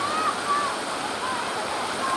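Waterfall pouring during an outdoor bath, a loud continuous rush of falling water that fills the whole stretch, with a few faint whistly tones over it.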